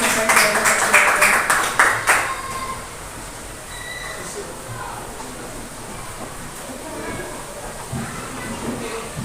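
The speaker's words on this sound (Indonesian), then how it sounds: "Kita beri tepuk tangan atas pemaparan yang disampaikan oleh Pak Juanda" Applause from an audience after a presentation at an educator training session rings out in quick, loud bursts of clapping for about two seconds, then fades into a low, quiet room hum.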